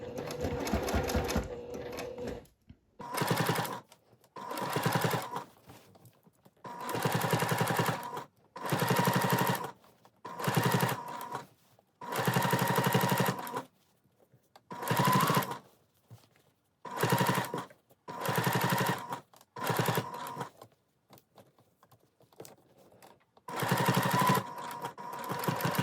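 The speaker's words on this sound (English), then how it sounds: "I'm just going to sew 1/8 of an inch away from the edge of that" A sewing machine topstitches an eighth of an inch from the edge of a placket on a top, running in about a dozen loud, close bursts of rapid stitching separated by short pauses, with no talk.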